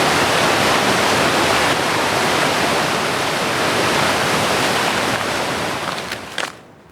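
River rapids in Ottawa roar and crash in a loud, dense, continuous rush of water that stays steady for several seconds, then drops away abruptly at the end.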